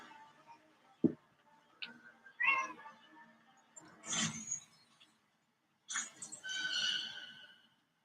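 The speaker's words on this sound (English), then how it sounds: "oh, look, it's my kitty" A house cat meows several times indoors, with faint, separate mewing cries spaced across a few seconds between a soft thump and quiet background sounds.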